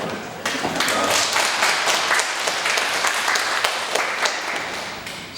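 A church congregation applauds during a Sunday worship service for an elder's 70th birthday. The applause is steady and continuous for about five seconds, with many hands clapping at once, loud and filling the room.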